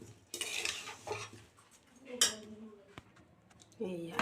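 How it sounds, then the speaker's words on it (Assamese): A spoon stirs a spice mix into olives for an olive pickle, giving soft scraping and clinking against the container in short bursts, with a few quieter pauses in between. "এতিয়া মই ভালদৰে লৰাই দিম।"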